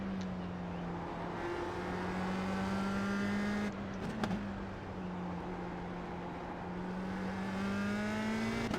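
USF 2000 race cars lapping Mid-Ohio in the iRacing sim, a steady droning engine tone holding pitch with small rises and dips, constant and fairly loud with a brief break near the middle, no talking.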